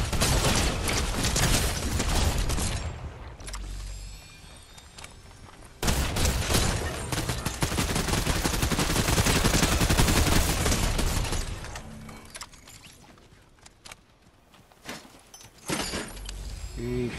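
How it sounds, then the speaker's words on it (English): Rapid gunfire bursts in an Optimus Prime video game, loud and sustained with short lulls, heavy mechanical clatter mixed in, and players talking over the shooting. "Where are they shooting us from?"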